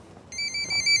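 A telephone rings with a bright electronic ringtone in a repeated warbling pattern that starts about a third of the way in, loud and clear over a quiet room background.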